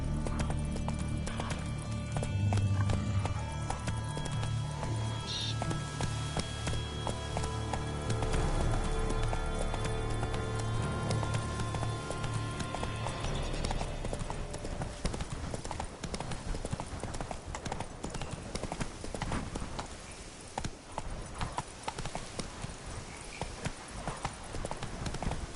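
Roach the horse gallops in The Witcher 3: Blood and Wine, steady rapid clip-clop hoofbeats running the whole time, close and loud over a layer of game music and ambience, with a brief snort or whinny.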